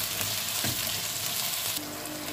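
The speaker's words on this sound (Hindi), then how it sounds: "अब जो प्याज है हम लाइट गोल्डन करेंगे इनको।" Sliced onions fry in hot oil toward light golden as the base for a beef biryani, giving a steady, close, loud sizzle with faint stirring scrapes and no talking.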